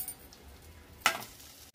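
Thin strips of okra shallow frying in a tablespoon of oil give a faint, steady sizzle, with a brief louder burst of crackle partway through as the pieces are stirred.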